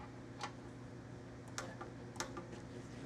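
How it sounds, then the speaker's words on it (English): A torque wrench snaps out a few crisp, faint clicks while tightening the oil drain plug on a Lexus LC 500, heard alone against a quiet workshop hum. "I'm going to double check what I tighten with the wrench with my torque wrench"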